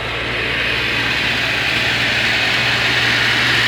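An old water pump engine runs steadily, pumping water into a pond: a continuous, fairly loud mechanical drone with a low hum and broad hiss that holds even for the whole stretch.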